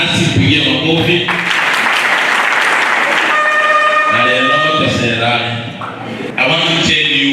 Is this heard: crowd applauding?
yes